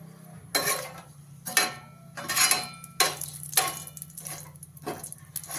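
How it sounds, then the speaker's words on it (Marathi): Large and green cardamom pods being stirred in a pan with bay leaves, giving a handful of scraping clinks and taps spaced about a second apart over a steady low hum. "हे टाकू विलायची मोठी विलायची थोडंसं हलवून घेऊ"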